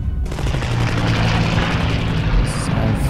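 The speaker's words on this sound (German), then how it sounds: "Das ist ein Flugzeug." An airplane roars overhead in the shooter game Enemy Front, a loud, steady, droning engine that fills the whole scene and is mixed with bursts of gunfire and booming battle noise. No one speaks.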